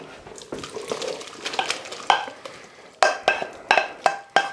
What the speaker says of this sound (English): I'm going to transfer it now into the slow cooker